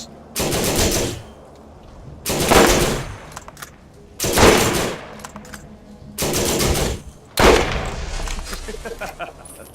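Gun turrets deployed by zombie Lance engineers in Borderlands-style shooter action, firing in five separate loud bursts spaced about two seconds apart, with quieter game noise between.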